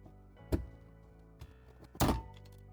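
A plastic engine cover is pried off a Fiat 500 Abarth, giving two sharp, close thunks with a faint knock between them, the second one louder with a short cracking tail, in an otherwise quiet space.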